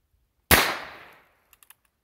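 A single sharp gunshot from a .22 pistol with a 6-inch barrel firing full metal jacket ammunition, close and loud, its report decaying over about a second, followed by a few faint small clicks.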